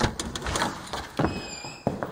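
An old cabin door at a horse-camp property near Daniel Boone National Forest opens with a few close clunks, scrapes and rattles, a short sliding scrape, then a final knock.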